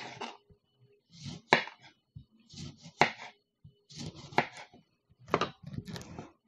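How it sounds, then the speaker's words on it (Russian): A knife slicing a lemon on a cutting board while making a mint, ginger and honey lemonade, with four or five sharp, separate cuts and knocks at roughly even intervals against a quiet background. "режем лимон."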